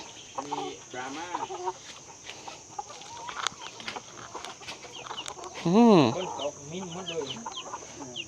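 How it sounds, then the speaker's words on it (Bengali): Domestic chickens in a Thai village cluck and chatter close by, with one louder squawking call standing out midway over a steady hum, while a person talks intermittently throughout. "গৃহপালিত মুরগি দেখেন।"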